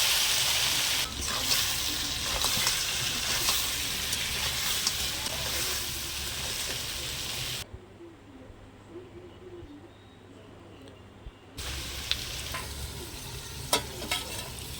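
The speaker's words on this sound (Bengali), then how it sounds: "এবার এই মাখা কাঁকড়াগুলো দিয়ে দিলাম, দিয়ে অনেকক্ষণ বেশ কিছুক্ষণ কষাতে থাকবে।" Crabs sautéing in hot oil tempered with cumin, bay leaf and dried chilli, a steady loud sizzle with stirring scrapes throughout, briefly dropping quieter midway before the frying hiss returns.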